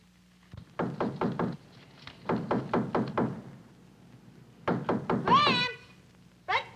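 Knuckles rap on a front door in quick bursts of four or five knocks, then a pause and another burst, close and firm, ending with a higher sliding vocal sound and a last short tap.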